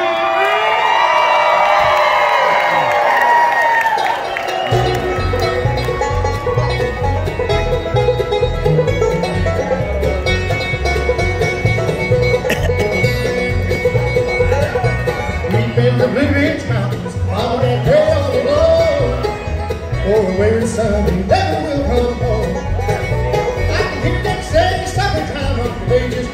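A live crowd at a bluegrass show cheers, whoops and screams loudly and continuously, with a steady rhythmic music-like pulse rising underneath after the first few seconds.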